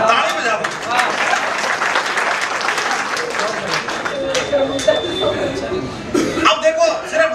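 Audience applause at a Hindi comedy poetry gathering, a steady wash of clapping with scattered laughter and coughs running the whole stretch, close and fairly loud.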